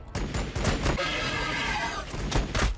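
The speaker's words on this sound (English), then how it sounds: "your bolt pistols are absolute garbage" Bolt pistol gunfire in Warhammer 40K Battlesector, a rapid volley of sharp cracks in quick succession with a sustained rattling burst in the middle, loud and close, mixed with battle noise.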